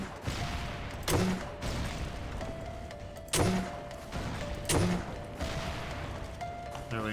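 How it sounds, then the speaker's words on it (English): Game combat in a retro-style shooter, with three sharp loud bursts of gunfire or explosions spaced a few seconds apart over a steady background hum and ambient game noise. "Blood explosion means good stuff"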